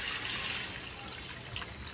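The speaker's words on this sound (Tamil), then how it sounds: "தண்ணி ஊற்றிடுறேன்." Water poured into a kadai of ghee-roasted moong dal while making paruppu payasam, a steady close splashing trickle running alone for about two seconds.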